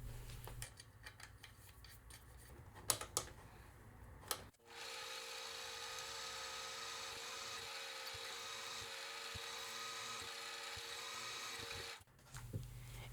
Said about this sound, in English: clamp both pieces together and drill the first hole